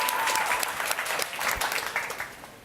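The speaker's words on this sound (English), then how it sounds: "please, let's give her a round of applause." Audience applause in a forum hall after a woman is welcomed to the podium, steady dense clapping throughout that tapers off slightly near the end, with no talking over it.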